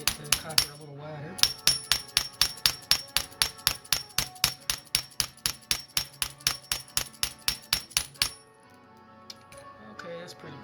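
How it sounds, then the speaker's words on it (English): A hammer beats copper wire flat for jewelry-making, striking about three times a second in a steady run of roughly thirty crisp metallic taps, each ringing briefly, close and loud, before it stops. No one talks. "Hammer it just a little bit more to get the copper a little wider."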